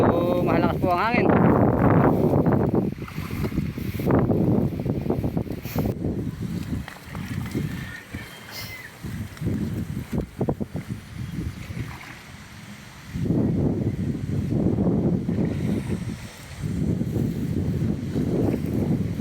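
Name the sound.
strong wind blowing over the water while fishing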